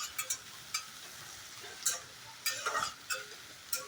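Onion, split chilies, nigella seeds and crushed garlic fry in hot oil for a pumpkin dish, giving a steady soft sizzle broken by sharp ticks and scraping stirs.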